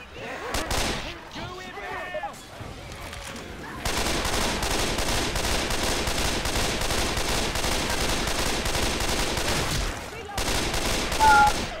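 Rapid gunfire bursts come from the Left 4 Dead 2 survival game, loud and dense, with a hectic stretch of sustained shooting after an opening of scattered shots and overlapping game noise. Players' voices are heard near the start and the end.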